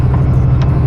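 A 40-ton loaded truck's engine hums in a steady, loud, low drone while the driver downshifts with the splitter, with a brief hiss near the end.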